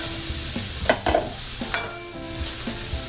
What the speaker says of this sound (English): Go ahead and throw your carrots in